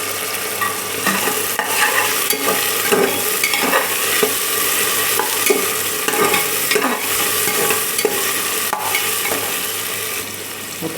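Onion and finely chopped tomato fry in a pan for a spicy mutton curry, a loud continuous sizzle broken by repeated scraping stirs of a spoon against the pan.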